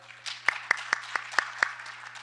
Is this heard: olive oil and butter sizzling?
no